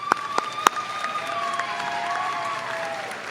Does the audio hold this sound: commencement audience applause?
yes